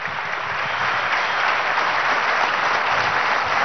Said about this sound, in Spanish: un aplauso para comandante Sotorrojas